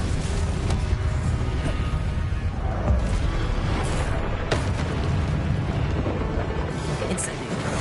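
Glacius ice spell cast in a Hogwarts wizarding video game, a sustained booming, rumbling blast with sharp crackling bursts layered over a dense roar.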